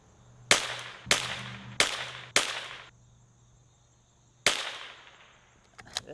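A Tikka T1x rimfire rifle fires four sharp, close shots about half a second apart, then a single shot after a pause, with each crack decaying quickly into quiet.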